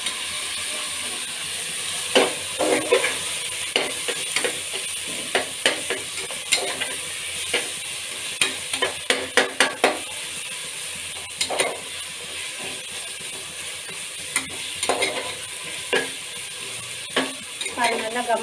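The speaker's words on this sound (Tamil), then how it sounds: "இதெல்லாம் சேர்த்து நல்லா வதக்கலாம் நம்ம" Ginger garlic paste sautéing in a pan for chicken biryani, a steady close sizzle broken by repeated scraping clicks of a spoon stirring against the metal, with no talking over it.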